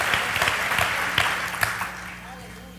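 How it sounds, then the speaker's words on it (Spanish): A church congregation applauds for Christ, producing a brief, moderate burst of clapping with a few sharp claps standing out, while voices carry on over and through it. "Dale un fuerte aplauso a Cristo."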